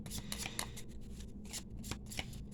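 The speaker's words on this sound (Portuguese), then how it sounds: "Embaralhando." Tarot cards being shuffled by hand in a close, steady run of riffling and sliding card noise, repeated soft bursts with no talk.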